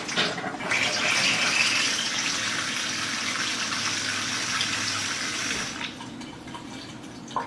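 A strong stream of Kangen water 9.5 pours over St. Louis style pork spare ribs, a loud, even gushing close by that runs for several seconds, then cuts off to quiet.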